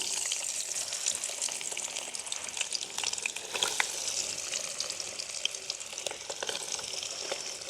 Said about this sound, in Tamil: உப்பு மஞ்சள் எல்லாம் பிரட்டி வச்சுருக்கிற பன்னீரை பொரிய போடுவோம்.